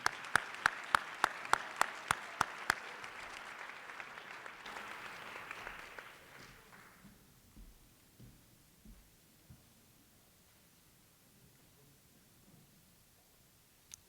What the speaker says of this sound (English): Please give a round of applause for our junior inductees.